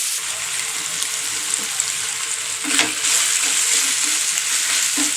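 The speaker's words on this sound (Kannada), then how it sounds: "ಟೊಮೊಟೊ ಹಾಕೋಣ ಇದು ಕೂಡ ಚೆನ್ನಾಗಿ ಫ್ರೈ ಆಗಬೇಕು" Tomato fries in a hot pan with a dense, steady sizzle, close up, with a few soft stirring scrapes and a slight swell in loudness near the end.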